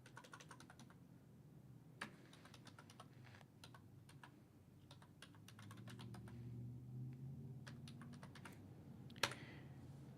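Typing on a computer keyboard comes through as quick, faint, irregular keystroke clicks in bursts, with a single sharper tap near the end.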